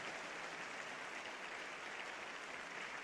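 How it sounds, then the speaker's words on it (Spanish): A church congregation applauds during a sermon, a faint, continuous wash of many hands clapping that holds steady from start to finish. "Fuerte, fuerte el aplauso."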